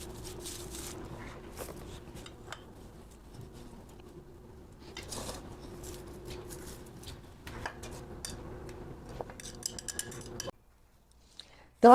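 Sausage slices being broken apart in a pan with a utensil while cooking carreteiro, giving scattered scraping and clinking taps over a low steady sizzle, ending abruptly in near silence with a final sharp knock.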